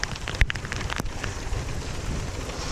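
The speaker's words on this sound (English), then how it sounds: "Still pouring rain. Thunderstorm has come overhead." Steady heavy rain pours during a thunderstorm overhead at Panguitch Lake, Utah, a dense close patter on surfaces with a couple of sharp louder drips or knocks, no voices.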